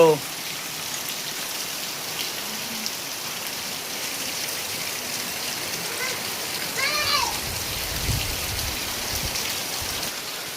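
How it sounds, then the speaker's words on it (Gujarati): Heavy monsoon rain pours down in Gariyadhar, a dense, steady hiss of drops hitting the ground and surfaces, with occasional splashes and a voice speaking briefly beneath it. "ગારિયાધારમાં વરસાદ ધોધમાર"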